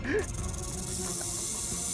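A loud, sustained snake hiss fills the clip, with a brief voice sound right at the start.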